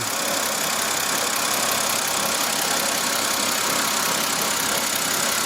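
A 2007 BMW 525i engine idles steadily and close by after an oil filter housing gasket replacement, giving an even, continuous running drone with no voices.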